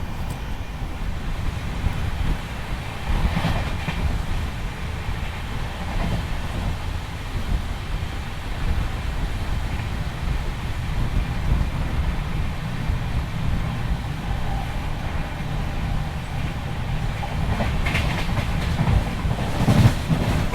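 An ICF-coach Yeshwanthpur–Shivamogga Town tri-weekly express passes with a steady, loud rumble and rhythmic clickety-clack of wheels over rail joints, mixed with wind buffeting the microphone throughout.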